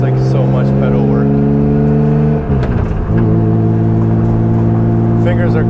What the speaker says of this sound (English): Downshifting in a second is like so much work because you have to double clutch it.